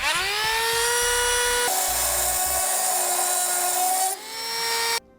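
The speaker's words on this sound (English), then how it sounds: "I'm going to take a rotary tool to cut off the excess" A rotary tool cuts off the excess length of a stud during a battery charge line installation on a vehicle, with a high, loud whine that shifts pitch as it bites into the metal, then stops abruptly.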